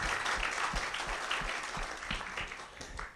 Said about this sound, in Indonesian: Tepuk tangan dulu untuk orang yang luar biasa.